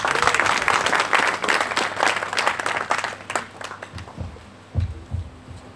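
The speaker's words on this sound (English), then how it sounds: "Let's welcome them with a round of applause." A church congregation at a Sunday service claps in welcome, dense applause at first that fades into scattered, uneven claps with low thumping sounds toward the end.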